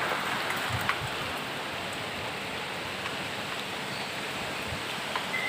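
Rain falls steadily in a dense, even hiss with scattered louder drops, continuous and fairly close throughout with no voices.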